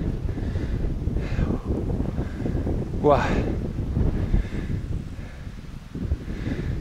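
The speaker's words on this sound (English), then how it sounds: "It's really windy." Strong wind buffets the microphone at a castle ruin in Alsace, a steady rough roar throughout with a brief exclamation from a person partway through.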